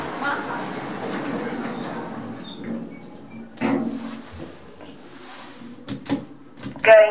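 Lift doors in a shopping centre slide shut with a low mechanical rumble and a soft clunk midway, followed by a few sharp knocks and a brief tone at the end, with faint background bustle throughout.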